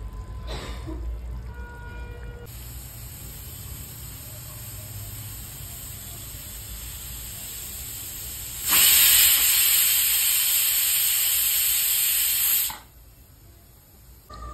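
A kitchen pressure cooker holding chole bhaji with potatoes hisses steadily, then lets out a loud, sustained steam whistle for about four seconds before falling back to a quieter hiss.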